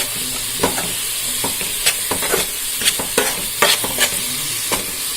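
Onions with ginger and garlic fry in a pan for Kerala-style tapioca biriyani, a steady sizzle broken by repeated scraping, clattering stirs of a spoon, close and without speech.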